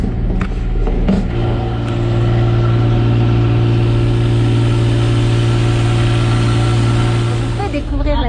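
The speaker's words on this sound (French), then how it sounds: "Je vais checker les moteurs pour voir si tout va bien avec les nouveaux C-Drive quand même." Engines with new C-Drive units on a Mirage sailboat running steadily, a loud continuous low hum and drone lasting throughout with a few brief knocks early on.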